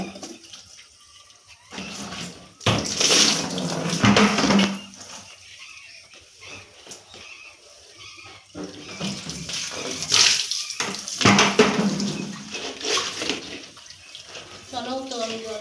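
Water runs while buckets are washed at a village house, splashing and gushing in uneven bursts with pauses between them, and someone talks over it.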